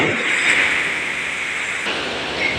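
Steady wash of large ocean waves breaking near the shore, a continuous broadband roar with a slight surge midway and no voices.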